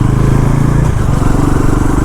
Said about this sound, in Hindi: इसका अंडर बैली एग्जॉस्ट कितना सेक्सी साउंड करता है